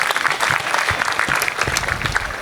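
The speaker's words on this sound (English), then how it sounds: "clap for it" Indoor audience at a talk clapping together in a steady, dense round of applause, fairly close and lasting the full few seconds.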